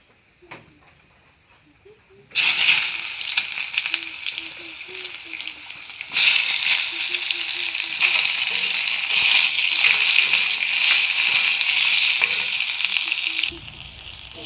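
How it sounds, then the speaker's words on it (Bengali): Eggplant pieces hit hot oil in a pan and burst into a loud, steady sizzle that swells further midway, with faint soft voice tones under the frying before it drops off near the end. "এবার আমি বেগুনগুলো বেজে নেব"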